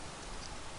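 Rain falls in Minecraft with the Fire Emblem Craft mod, a brief, even, soft hiss of steady rainfall with no voices over it.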